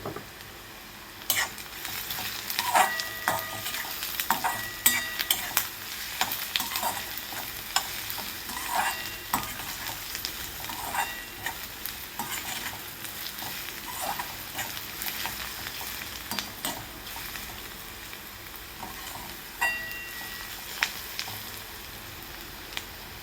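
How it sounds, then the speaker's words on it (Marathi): Onion fries with a pinch of salt in a pan for a paneer bhurji, giving a continuous moderate sizzle broken by frequent scraping stirs of a spatula. "तर इथं कांदा भाजत असताना थोडंसं मीठ घालायचं आहे, त्यामुळे कांदा चांगला भाजला जातोय बघा."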